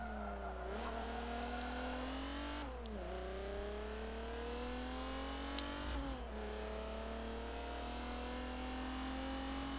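A racing car in Forza drives on under a continuous engine drone, its pitch sweeping up and then dropping sharply as it brakes and shifts several times, with one brief sharp click in the middle.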